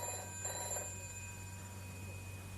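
An old-style telephone bell rings in a short burst, then a faint electrical hum and tone carry on in a quiet room.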